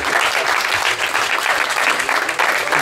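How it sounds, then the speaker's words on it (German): Steady, dense applause from a stand-up comedy audience, loud and close, clapping continuously without a break for about three seconds. "Applaus für diese komische Vater-Sohn-Beziehung"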